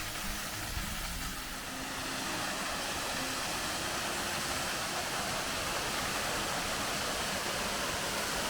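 Steady broadband rush of a waterfall on the Kowen Escarpment in NSW/ACT, a continuous even roar holding at the same level throughout with no voices.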